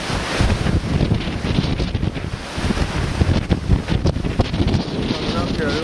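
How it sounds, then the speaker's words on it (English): Strong wind buffets the microphone as lake waves break through a dock on Lac Courte Oreilles in early June, with loud, surging gusts and splashing rising and falling, and a person speaking intermittently over the noise. "Whoa, you can see the water, the waves are breaking through the"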